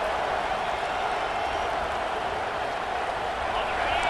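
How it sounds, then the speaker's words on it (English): Home crowd noise in a college football video game, South Carolina versus Texas in an SEC Championship, a steady, dense roar of cheering that holds at an even level throughout. "this home crowd is fired up and ready to make a difference today"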